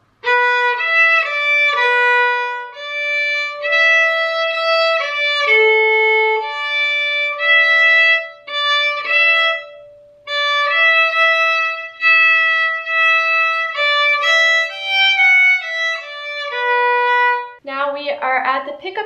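A solo violin plays the melody of a song from the pickup to measure 30, with clear sustained bowed notes moving stepwise at a slow, lyrical pace, heard close and alone with no talk.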